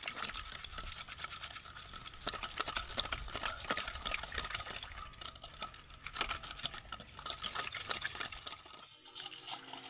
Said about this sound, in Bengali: এবার আমি একটা হ্যান্ড উইক্স নিয়েছি, এইভাবে ভালো করে মেশাবো তেলের সাথে চিনি গুঁড়োটাকে।